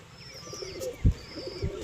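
Pigeons coo in a home loft, with soft low cooing calls and a few higher bird chirps, close by and moderately loud over faint background noise, plus a couple of brief thumps.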